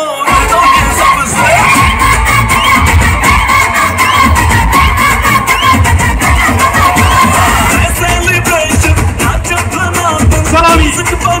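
A dense, loud crowd roars and cheers at a large Dahi Handi festival in Konkan, with shouting children and sustained whooping filling the scene throughout.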